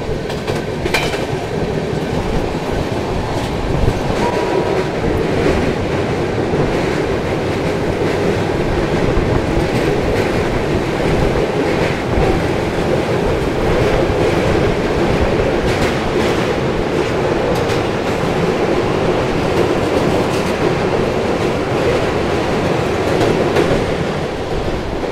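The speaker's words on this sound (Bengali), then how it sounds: "এই যে ট্রেনটা গেল এটা হচ্ছে ট্রেন নাম্বার 22-196, বান্দ্রা টার্মিনাস থেকে বীরাঙ্গনা লক্ষ্মীবাই ঝাঁসিগামী ট্রেন" Train 22196 from Bandra Terminus to Jhansi rolls past near the Chambal river with loud, continuous rumbling and rhythmic wheel clatter on the rails, sustained at full strength from start to finish.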